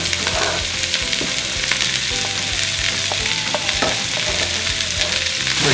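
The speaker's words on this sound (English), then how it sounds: "Add our onions." Onions dropped into olive oil with sautéing garlic, a loud continuous sizzle and crackle with repeated scraping stirs and clicks, close by and with no talking.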